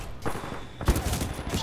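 A couple of quick bursts of gunfire in the video game Titanfall 2 crackle at moderate distance, sharp and brief, separated by short pauses.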